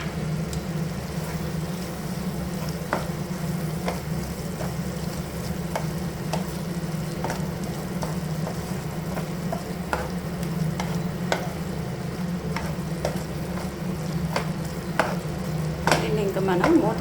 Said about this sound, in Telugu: ఇంకా మనం మూత పెట్టకుండా ఫ్రై అయ్యేదాకా ఇలా అప్పుడప్పుడు కలుపుకుంటూ ఉంటాం